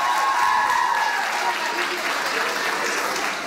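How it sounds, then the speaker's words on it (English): Audience applause for three quiz teams reaching the finals at a university World Tourism Day event, a dense, steady clapping that fills the room throughout without letting up. "So can we have a round of applause for all the three teams over here?"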